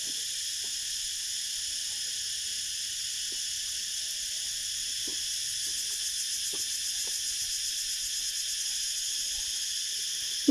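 Crickets chirp at night on a farm in Phang Nga, Thailand, a steady high-pitched insect drone running throughout, with faint scattered clicks and low background rumble beneath.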